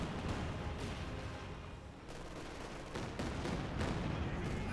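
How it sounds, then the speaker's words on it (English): Katyusha rocket barrage in the Company of Heroes 2 strategy game. A dense, continuous rumble of rapid explosions and gunfire fills the whole stretch, with sharper blasts breaking through at intervals. "That Katusha barrage almost wipes out another Grenadier squad."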